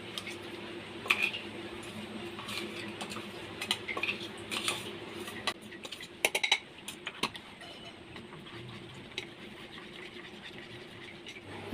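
A utensil clinks and scrapes against a pot while ground cashews, almonds, rice and cardamom are stirred together for Marathi-style rice kheer, producing quiet irregular taps and scrapes over a low steady background hum.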